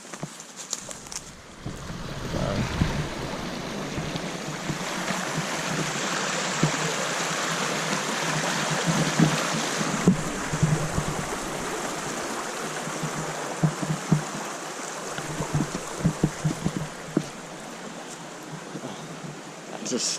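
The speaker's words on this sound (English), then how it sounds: "Oh yeah, I hear a stream or river." A mountain stream or river flowing somewhere nearby, a continuous watery rush that builds and holds, broken by scattered crunchy footsteps or knocks on a steep hillside, with some talking partway through.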